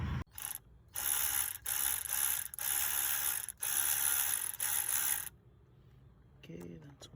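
A Shield Pro cordless ratchet whirs in several loud, close bursts while undoing bolts, with short pauses between runs before it falls quiet.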